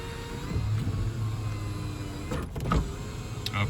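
A power moonroof motor on a 2007 Toyota 4Runner Sport Edition 4x4 whirs steadily for several seconds inside the cabin, a low continuous electric hum with a few brief clicks near the end.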